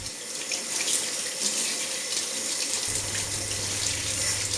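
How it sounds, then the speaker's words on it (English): Potatoes rinsed under a running kitchen tap ahead of being made into air fryer wedges, a steady close splashing stream filling the sink that thickens with a deeper rush partway through, with no talking. "I like to give the potatoes a little bit of a wash"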